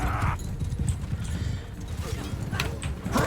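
Horse hooves clopping at a steady gallop in the Mount & Blade 2 video game, a dense continuous patter of hoofbeats under battlefield noise with brief bursts of other sounds.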